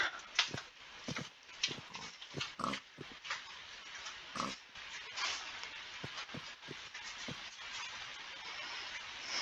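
Pig oinking in the Minecraft video game, a series of short grunts repeating irregularly over a dense, steady game background, fairly close and clear with no talking.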